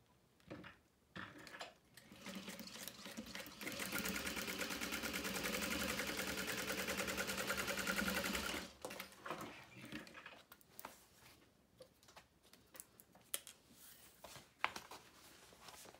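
Sewing machine top stitching through the exterior of a canvas make-up bag, running in one steady, continuous mechanical whir for about five seconds, with quieter handling clicks before and after.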